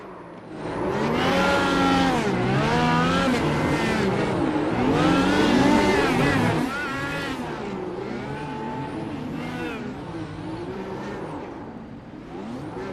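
An IndyCar revving hard and doing a burnout at the start-finish line of the Charlotte oval after a race win. The engine screams loud and close, rising and falling in sustained wails with no pauses.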